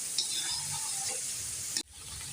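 Garlic paste sizzles in a pan with onions and chicken, a steady close frying hiss with scraping stirs, cutting off abruptly near the end before a quieter sizzle resumes; no talking.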